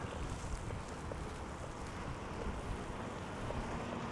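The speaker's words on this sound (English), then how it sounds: "the wind has just picked up quite a bit" Wind blows in a steady, broad roar with the odd gusty swell during a snowy walk through downtown Toronto's east side, constant and close with no speech.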